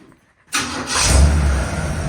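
A 1965 Chevrolet C10 pickup engine cranks and fires up after a moment of near silence, catching abruptly and settling into a loud, steady, close idle with a deep rumble and no talk over it.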